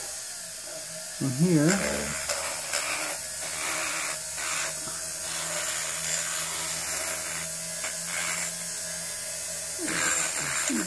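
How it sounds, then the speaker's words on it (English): Chamfering the edges of a raw aluminum casting with a handheld rotary tool, a thin buzzing grind running in short bursts with pauses, while someone talks briefly over it. "so I'll just do a quick chamfer there"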